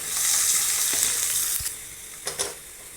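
Garlic drops into hot oil, giving a bright hiss that fades over a few seconds, with a couple of small clicks and clatters near the end, close up with no voices.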